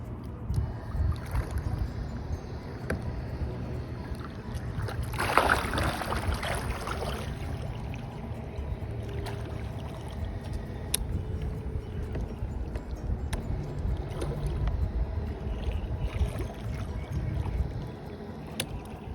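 A small outboard motor on an inflatable pontoon drones steadily throughout with wind noise and water splashing, and a brief louder rush partway through.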